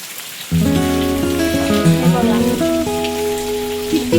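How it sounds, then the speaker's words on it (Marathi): Heavy rain pours down in a village, starting abruptly and then a dense, steady drumming on surfaces with bright splashing tones, loud and close, continuing without pause. "आमच्या इथे पाऊस पडतो बाई"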